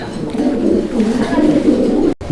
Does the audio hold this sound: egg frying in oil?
no